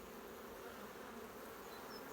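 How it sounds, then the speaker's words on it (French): Dense, steady buzzing of many honeybees at a hive in an apiary, continuous and even in level throughout, with no talk. "Il y a beaucoup d'abeilles quand même."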